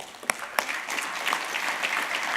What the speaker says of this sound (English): So round of applause for Patrick.